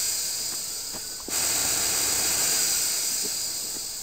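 An acid sprayer weapon fires in Garry's Mod, a loud continuous hissing spray that jumps louder partway through and holds steady, with no talking.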